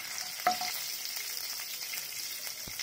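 Cumin seeds and finely chopped green chilli sauté in hot oil for bread upma, a steady close sizzle with a brief spattering crackle near the start and a soft stir later.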